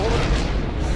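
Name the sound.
rocket launch boom in Fortnite video game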